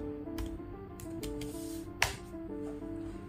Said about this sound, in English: I will be typing ipconfig